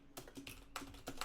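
Typing on a computer keyboard with a failing E key: a few crisp, close keystrokes in quick irregular bursts, quiet and isolated with no voices.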